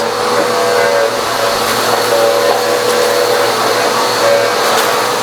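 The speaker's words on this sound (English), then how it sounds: "But now the vacuum will do a better job." A Bissell AeroSwift vacuum cleaner runs steadily at close range, a loud continuous whir with faint clicks and rattles of debris being sucked up, no voices over it.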